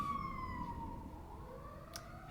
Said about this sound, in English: Man, there's been a lot of sirens around here lately.